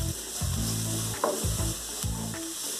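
Chopped onion frying in a spoonful of hot oil in a pan, a steady close sizzle broken by several rhythmic scraping stirs with a tonal, ratchety edge, no voices.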